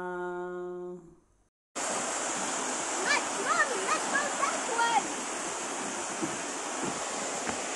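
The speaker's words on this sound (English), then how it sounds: "The kids are enjoying a beautiful view of the waterfalls here at the park" Waterfalls at a park nature reserve give a steady, broad rushing roar. Faint children's voices and chatter sit under the continuous wash of water, which follows a brief tonal sound and a moment of silence.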